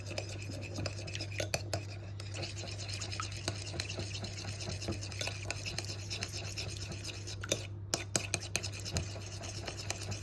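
Seasoned food with pepper being mixed in a bowl, steady close stirring and light scraping of a utensil with faint clicks, no clear talk.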